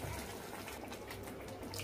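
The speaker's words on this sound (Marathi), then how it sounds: "आता मी त्याच्यामध्ये पाणी घालते." Water pours steadily into a mixer jar of ground curry paste for a Marathi surmai fish curry, a continuous close splashing gush with no voices.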